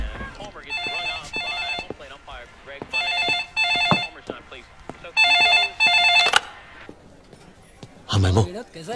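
A telephone rings in repeated electronic bursts, several rings separated by short gaps, heard over people talking nearby.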